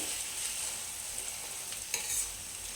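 A spatula steadily stirs spinach and onion masala (palakura ullikaram) in a hot pan, with a continuous soft sizzle of frying and a few scraping strokes, close up and with no voices.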